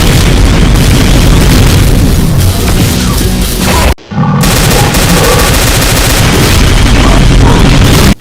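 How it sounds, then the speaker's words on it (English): A Cyberdemon in a Doom mod fires a spread of Demon Tech BFG shots: loud, relentless booming and crackling blasts, broken by one sharp momentary silence midway before the barrage roars back. "Firing a spread of Demon Tech BFG shots."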